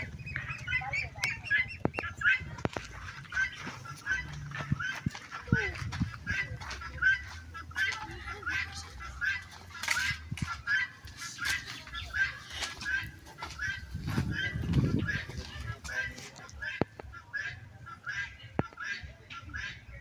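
Chickens cluck and squawk repeatedly nearby, with occasional wing flaps and soft background murmurs of people talking.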